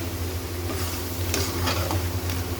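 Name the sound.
frying onion, ginger, garlic, chili masala for white chicken karahi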